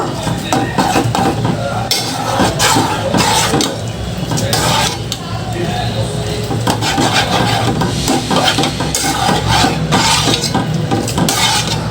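Spoon stirring a pot of homemade Korean-style soup with hot tomato sauce, giving steady scraping and rubbing strokes against the pot, close and continuous with faint clinks throughout.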